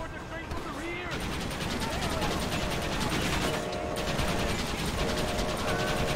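Rapid gunfire from the video game Red Dead Redemption rattles out in loud, dense bursts, layered with mechanical clatter and other game effects.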